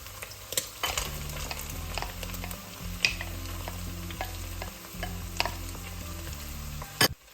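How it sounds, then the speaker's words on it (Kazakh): Diced carrots and onions fry with meat over high heat for zharkoe, a continuous sizzle broken by several sharp utensil scrapes and clinks as it is stirred, with quiet music underneath. "Сәбіз қосқаннан кейін оның үстіне бірден пиязды да қосамыз."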